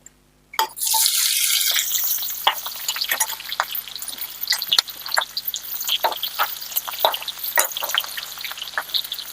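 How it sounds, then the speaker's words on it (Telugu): Onions hit hot tempering oil in a pan: after a brief silence a loud sizzle bursts in and keeps crackling, with scattered pops, close and steady throughout, with no talking. "ఉల్లిగడ్డలు వేసేసుకుందామండి"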